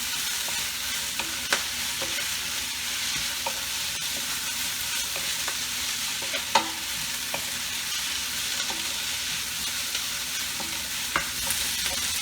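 Collard greens cook in a pan, a steady mid-level sizzle with slow stirring and occasional sharp utensil taps against the pan at irregular intervals.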